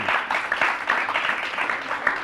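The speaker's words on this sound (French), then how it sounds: "Allez, applaudissez toutes ces disciplines" An audience in a French quiz broadcast claps steadily for school subjects, a dense, continuous ovation with slight surges and no talk over it.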